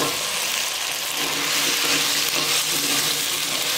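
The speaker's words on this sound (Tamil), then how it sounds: "இப்போ முருங்கைக்காய் போட்டுக்கலாம்" Sliced drumsticks go into a hot pan of sautéed onion and tomato for a Tamil sambar base, producing a loud, even sizzle that holds steady for a few seconds, close by and without speech.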